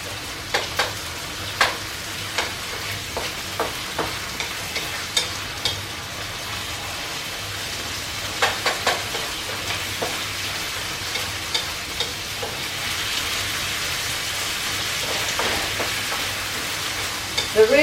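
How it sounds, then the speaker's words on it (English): Carrots and onions frying in oil in a pan for a wine cap mushroom stir fry, a continuous sizzle with repeated sharp taps and scrapes of stirring, close and fairly loud. "And then I put in the carrots and the onions first. Let them soften."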